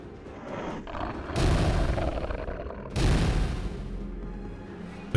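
Game gunfire from Anachronox comes as two sustained bursts of dense, rattling shots, each cutting in abruptly and trailing off, under a low rumbling background.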